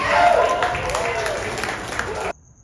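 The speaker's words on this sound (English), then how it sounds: "Make some noise if you think it was all staged" Comedy club audience cheering, clapping and calling out in a loud burst that rises at first, holds, then drops away suddenly.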